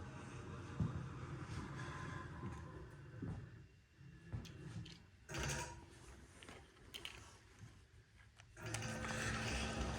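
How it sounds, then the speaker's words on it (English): A sewing machine stitches a quilt pattern for a Zen-style Christmas tree skirt, running in steady mechanical bursts with brief pauses and stops between sections, moderately loud and alone without talk. "now we are ready to go into stitching the pattern itself"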